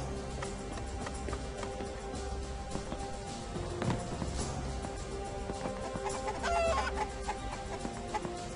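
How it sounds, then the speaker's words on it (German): Chickens cluck in a video game scene over a busy backdrop of game sounds and ambience. The clucks are scattered and moderately loud, with faint hoof-like clopping mixed in. "Ach, Hühner sind hier nur."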